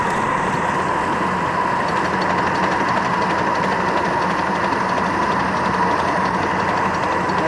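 A steam locomotive climbs a grade just after crossing a trestle, making a loud, steady chugging roar with constant mechanical rumble and no pauses.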